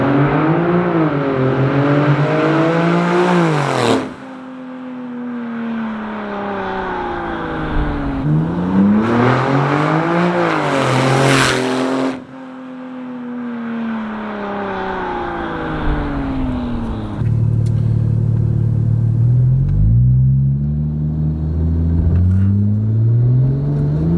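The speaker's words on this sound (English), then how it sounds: "Sound of these turbos is insane." A Porsche 997 Turbo with Tiptronic transmission and flashed ECU revs hard on a dyno, its engine climbing and falling in repeated loud sweeps as the turbos spool, then settling into a lower, steady drone near the end.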